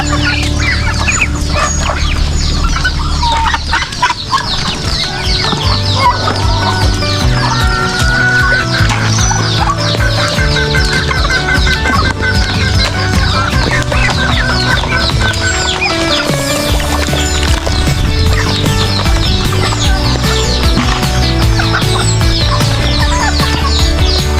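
Many chickens cluck and squawk continuously and loudly, a dense flock chorus with low rumbling noise underneath.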